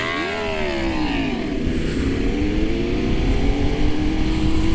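Car engine with a loud aftermarket exhaust revving hard at a head-to-head street race, a deep rising and falling drone that builds in pitch and loudness, close and continuous with crowd noise underneath.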